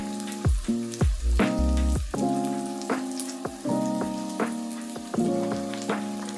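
Garlic sizzles in a hot pan for a Bicol Express dish, with a steady frying hiss broken by several clattering stirs and knocks of a utensil, close and fairly loud, with no talking.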